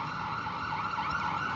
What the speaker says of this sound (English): it sounds like the fire truck is coming